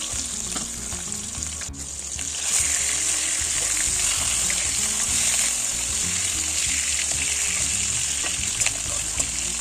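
Fish frying in a pan, a steady close sizzle with spattering that swells louder after the first couple of seconds and holds throughout.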